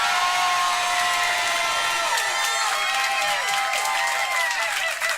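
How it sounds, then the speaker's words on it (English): Comedy club audience claps and cheers between acts, a loud continuous mix of applause and whoops, with a host speaking over it. "Now I know some of you are clapping for more than one"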